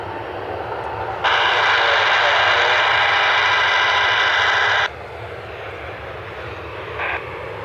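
An airliner at Cleveland Hopkins airport spooling up for takeoff, a loud sustained roar that starts abruptly and holds steady for several seconds before dropping back to a softer rumble, with no speech.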